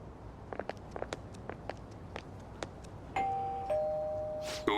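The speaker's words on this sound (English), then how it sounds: "You ring the bell." A video game doorbell at Madarame's house in Persona 5 Royal chimes in two sustained tones after a run of soft footstep-like taps. The chime is clear and steady over quiet ambience.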